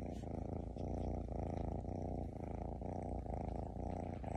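A kitten purrs in a steady, rumbling rhythm of inhale and exhale cycles, close and fairly soft, with no talking over it.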